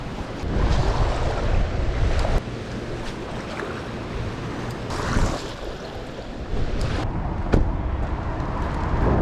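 Gusty wind blows across muddy swamp water in a small New York swamp, a loud, continuous rushing roar that swells and eases in waves with occasional sharper buffets against the microphone.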